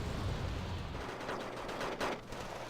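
Infantry gunfire in a war strategy game, a dense, steady crackle of rapid rifle and machine-gun fire from a Yugoslavian infantry wave, with a slightly louder burst near the end.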